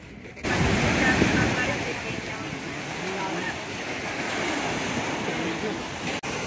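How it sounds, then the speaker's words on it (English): Strong ocean waves break and wash onto a secluded beach in Tayrona National Park, Colombia, a steady loud roar of surf close by with wind, no voices over it. "You see the beach, the waves here are quite strong."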